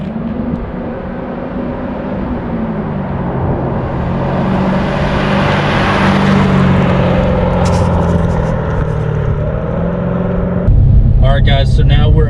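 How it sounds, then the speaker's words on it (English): A 2016 Chevrolet Corvette C7 Z06 on the road, its engine drone steady and loud from inside the cabin, rising slightly midway with someone talking over it. "now we're actually driving this 2016 Z06"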